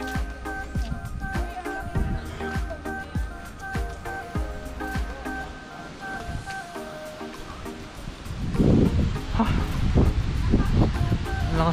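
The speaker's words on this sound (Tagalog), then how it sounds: "Lakas ng hangin" Strong wind gusts over the rocky mountainside at Mt. Samat, a steady rushing roar that swells louder toward the end, buffeting the microphone, with faint musical tones underneath.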